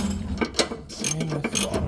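Ratchet wrench snugging a sway bar end link on a Toyota RAV4, a run of close, quick mechanical clicks in short bursts with brief pauses between them.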